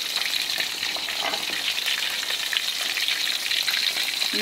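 Salted fish frying in a pan of hot oil over a medium flame at lunchtime, giving a steady, loud, dense sizzle throughout with faint stirring noises and no talk.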